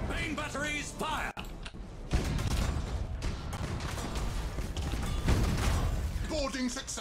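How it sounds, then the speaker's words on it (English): Starship main batteries firing in Battlefleet Gothic: Armada 2, a rumbling barrage of heavy booms and mechanical clatter, with a voice speaking briefly at the start and again near the end. "Main batteries fire."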